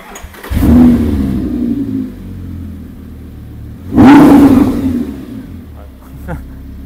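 A Lamborghini Gallardo LP560-4 with an aftermarket exhaust, giving two deep, loud revving surges separated by a lower idle rumble, heard up close.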